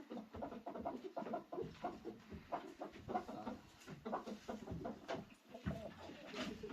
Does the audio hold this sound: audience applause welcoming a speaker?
no